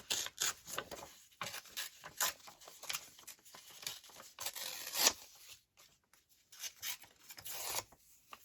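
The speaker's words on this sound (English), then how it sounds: "I might tear out this letter." Paper tears and rubs in short, quiet bursts as a letter is ripped out for a journal collage, with soft rustling between the pauses.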